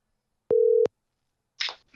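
A phone call signal sounds as one steady electronic beep lasting about a third of a second, clean and isolated against silence, followed by a brief noisy burst.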